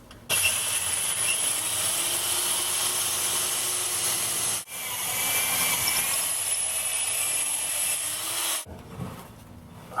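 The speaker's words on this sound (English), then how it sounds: "drill the second hole." Power drill boring a hole in wood for a lathe steady rest attachment, a steady high-pitched whine running for several seconds, a brief dip midway, then stopping near the end.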